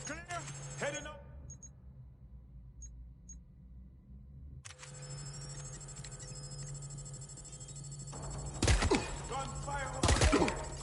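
Sharp bursts of gunfire go off in the video game Watch Dogs: Legion, two loud clusters near the end, set against a steady game ambience after a quiet opening.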